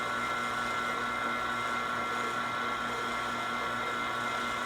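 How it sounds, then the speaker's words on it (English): A vacuum pump runs steadily on the A/C system of a 2012 Toyota Prius, hooked to the low side through a single silicone hose, giving a constant close, loud mechanical whir with a fixed hum and no pauses. "the vacuum pump is now engaged to the system through the low side"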